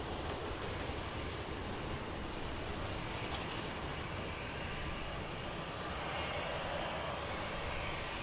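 Large airliners taxi at Lisbon Airport, a dense continuous roar of jet engines that holds steady and fairly distant throughout with no voices.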